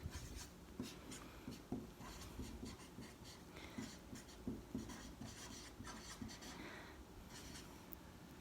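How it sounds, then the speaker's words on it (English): Pencil or pen strokes scratch across paper while a foot shape is sketched, a steady run of soft rubbing and scribbling at close range, fairly faint, with light breathing in the background. "I'm going to draw kind of like a foot"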